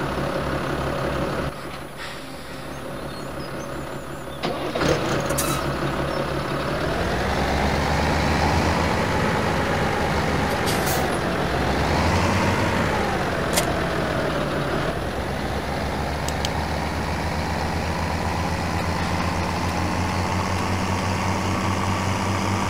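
A New Holland TS series tractor engine in Farming Simulator 17 runs continuously, a steady loud drone that rises and falls in pitch as it revs, with brief sharp clicks and hisses layered over it.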